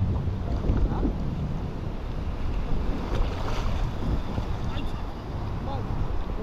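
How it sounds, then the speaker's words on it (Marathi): Sea waves and gusting wind heard from a small fishing boat off Mumbai, a constant roar of water and wind buffeting the microphone, with occasional faint voices in the background. "समुद्र समुद्र का आवाज रहना चाहिए वीडियो में"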